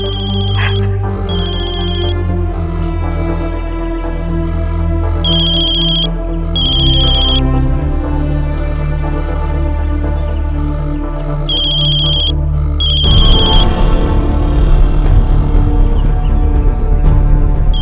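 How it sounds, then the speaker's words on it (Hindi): A phone rings with a repeating electronic ringtone melody, loud and close, playing on for many seconds before a burst of rougher noise at the end. "कौन सा दूसरा फोन बज रहा है?"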